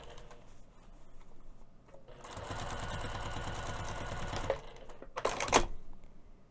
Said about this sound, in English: I'm just going to go ahead and machine stitch that closed using an eighth of an inch seam allowance